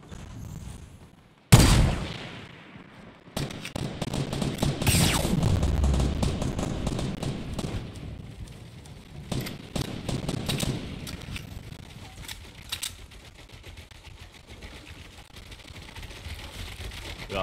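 Video-game gunfire with a sharp loud blast near the start, then rolling bursts and scattered shots over a steady rumble throughout.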